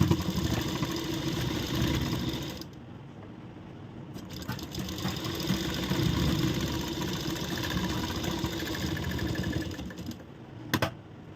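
A sewing machine runs steadily while stitching a corset-style blouse piece, its motor whirring at close range with a continuous hum that briefly drops off around a few pauses.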